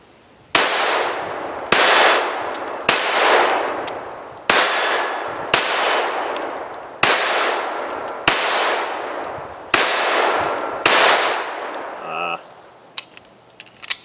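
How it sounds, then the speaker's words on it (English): A Ruger LCP II .22 LR pistol fires 40 grain lead round nose Blazer ammo, about nine sharp close reports in a steady rhythm roughly a second and a half apart, followed by a faint metallic ring from a struck target. "What we're shooting, for those who are curious, is just some 40 grain lead round nose blazer"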